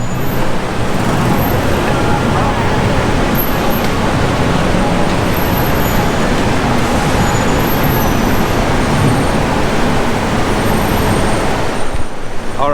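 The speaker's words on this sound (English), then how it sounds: "Wow, here's a good view of traffic." Dense, busy city traffic in central Bangkok near the Siam BTS area, with a continuous loud roar of cars, buses and trucks, an occasional air-brake hiss, steady throughout.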